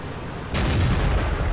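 A tank main gun fires once in the World of Tanks game, an STB-1 shot: a sudden loud boom breaking from quiet into a sustained rumbling roar that lingers to the end.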